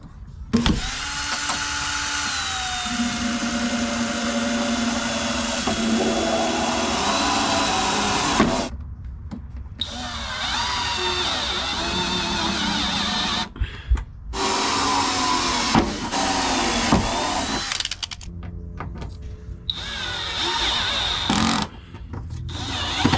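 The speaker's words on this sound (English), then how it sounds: "Now when you're drilling underneath a car, make sure you're wearing safety glasses" A power drill with a 3/16-inch bit bores holes underneath a Honda CRX during a side skirt install, its steady motor whine close and loud in several long bursts broken by short pauses.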